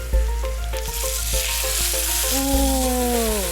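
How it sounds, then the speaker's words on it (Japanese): Steady oil sizzle of wagyu beef searing with garlic in a hot frying pan over medium heat, with a few light clinks and scrapes of utensils throughout. "にんにくのいい香りがしてきたら肉を焼き始めます。"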